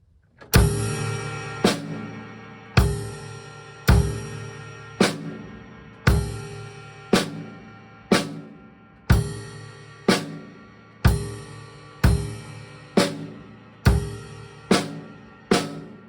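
A drum kit played in paradiddles across ride cymbal and snare with a bass drum added under the right hand, giving a steady series of loud ringing strokes, each decaying before the next, roughly one per second.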